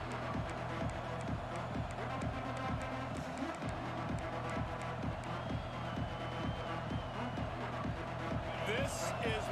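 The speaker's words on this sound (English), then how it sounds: "This crowd ready to make its presence known." Crowd noise in a college football video game stadium, a steady roar underneath continuous play-by-play commentary, with a rhythmic pulsing beat throughout.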